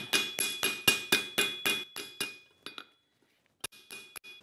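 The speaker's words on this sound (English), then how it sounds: "Then I brought this because I would like to planish that." Steady rhythmic hammer blows planishing a forged slag chipping hammer, about nine bright metallic strikes in quick succession, then a pause and a few scattered taps, close and clear with no talk.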